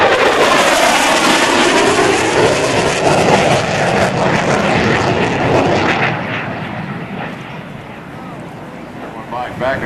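A CF-18 Hornet fighter jet makes a high-speed pass at more than 600 mph during an airshow at NAS Oceana. Its engines roar loudly and broadly, then fade as it passes, with an announcer speaking over it.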